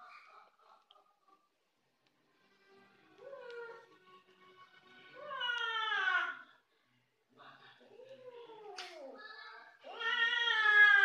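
A cat fighting a monitor lizard lets out drawn-out, wavering growls and yowls in several rising and falling bursts, close but fairly quiet, separated by short silences.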